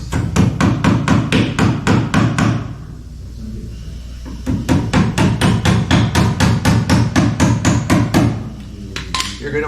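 Hammer tacking expansion strips in place on a barrel, sounding as two loud runs of rapid, evenly spaced strikes close up, separated by a short pause near the middle.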